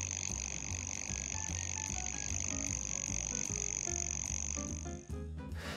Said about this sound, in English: The alarm is about 20 seconds long and sounds like this.